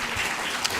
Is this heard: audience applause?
yes